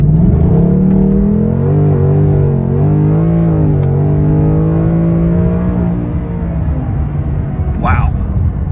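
A 2021 Ford Mustang Mach 1 V8 rumbles loudly from inside the car, its engine note wavering and climbing as it launches in a 0 to 60 run.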